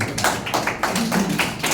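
A class of tenth-grade students claps for a classmate after chemistry exam results are read out, a close, steady run of rhythmic hand claps from a small group indoors.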